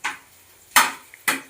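Ginger-garlic paste is mixed into prawn fried rice in a pan, with three distinct clacks of the spoon against the pan spaced about half a second apart, close and dry, no talk.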